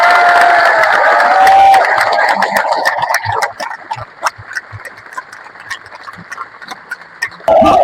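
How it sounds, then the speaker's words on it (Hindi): A protest crowd in Delhi cheers and claps for Devraj, a loud roaring wash at first that thins into scattered sharp claps, then surges again at the end. "अगले 30 सेकंड तक तालियां नहीं रुकनी चाहिए देवराज के लिए"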